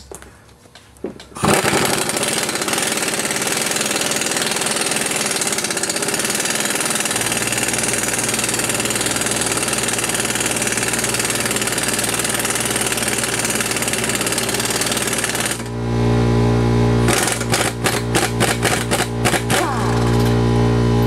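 An impact wrench hammers steadily on a nut, pulling out a control arm bushing on an Audi A4 B5 1.8T, loud and continuous with a rattling rhythm and brief pauses near the end.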